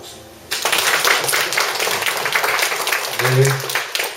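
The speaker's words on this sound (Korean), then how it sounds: "박수." An audience claps after a poetry reading at a Korean arts event, the applause starting abruptly and holding dense and steady, with a voice briefly speaking over it near the end.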